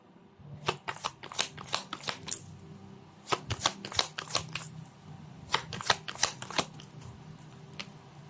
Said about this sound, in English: So let's pull up another set of cards.